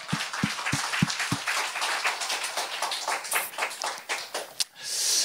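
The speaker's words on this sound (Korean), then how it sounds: "좋으신 하나님께 영광의 박수 올리겠습니다" A church congregation bursts into applause, a few separate claps at first and then a dense, sustained wash of clapping hands that fades out near the end.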